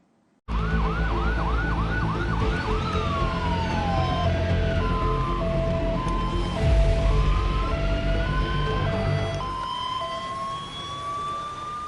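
An ambulance siren in Delhi NCR blares loud and close, starting abruptly with rapid yelping whoops and then switching to long rising and falling wails over rumbling traffic noise.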